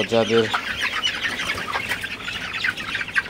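Chickens in a poultry house clucking and squawking in a busy flock, with a brief harmonic call near the start and steady overlapping chatter throughout.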